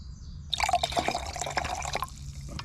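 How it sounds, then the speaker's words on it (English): Cold water is poured into a canteen cup of camp coffee, with gurgling, trickling splashes after a quiet start and a soft hiss of background noise underneath. "what you have to do is dump in some cold water"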